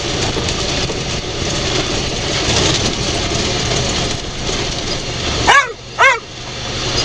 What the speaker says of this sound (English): Duke, no barking.